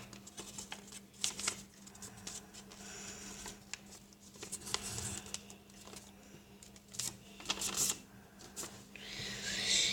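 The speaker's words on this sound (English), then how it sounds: "Fold the whole thing in half outward." A sheet of paper being folded in half outward for a complex paper plane, with crisp crinkles, rubs and sharp creasing rustles that come in irregular bursts, close and moderately loud, with no voices.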